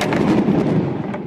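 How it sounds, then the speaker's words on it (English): Massive fertilizer plant explosion in the town of West near Waco, a loud, booming, rumbling blast that fills the whole moment and slowly fades, no voices. "A massive fertilizer plant explosion in the town of West near Waco."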